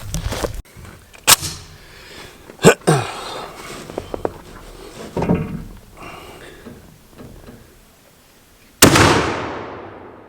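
Shotgun slugs are fired at a target in a few sharp, loud single reports spaced several seconds apart, with quieter handling noises between them and a final blast trailing off.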